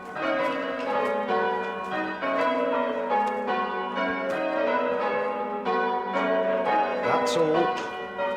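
Church bells rung by a team of bell ringers peal in a steady, overlapping sequence of resonant strikes, loud and close throughout, with a brief spoken remark near the end.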